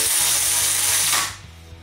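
A loud mechanical whirring rattle from an impact wrench working on a Chevrolet Silverado runs steadily for over a second, then cuts off abruptly, leaving a quieter low hum.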